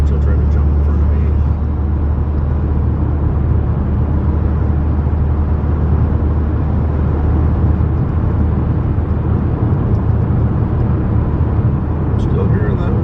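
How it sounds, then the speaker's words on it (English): Steady, loud broadband roar of wind and road noise inside a car driving in winter with ice on the body, continuous and unbroken throughout. "Still hearing that wind noise back there."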